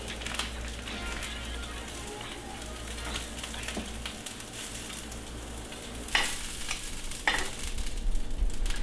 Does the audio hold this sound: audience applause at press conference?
no